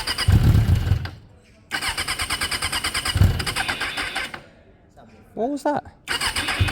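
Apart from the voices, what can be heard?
motorcycle engine cranking with a dead battery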